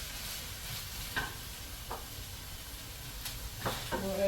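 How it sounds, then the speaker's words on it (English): Asparagus and onions sauté in a pan with a steady, close sizzle, broken by a few brief stirring scrapes and clatters; no one speaks. "I think I'm going to add these to the saute. This is that asparagus that was left over."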